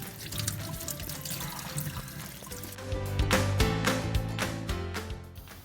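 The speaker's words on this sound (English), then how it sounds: "wash it quickly under the water" Mushrooms rinsed under running tap water in a home kitchen, a steady pouring and splashing stream that grows fuller and louder midway, with light clinks as the mushrooms are handled.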